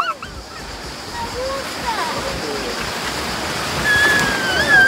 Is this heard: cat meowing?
no